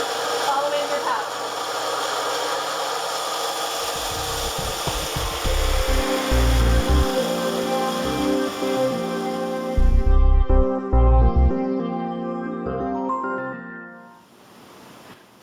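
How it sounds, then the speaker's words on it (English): A Precision 2000 hobby saw with its water supply running whirs into cutting, the motor pitch dipping and rising in bursts as material is pushed through the blade, loud and close before tapering off at the end. "Then turn on your saw."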